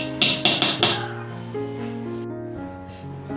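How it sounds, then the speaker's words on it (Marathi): A knife chops through hard sesame and jaggery chikki in four quick sharp knocks, followed by a sustained ringing tone and quieter shuffling, close by with no speech. "हे मी ना असे कापून घेते कारण कडक आहे ना"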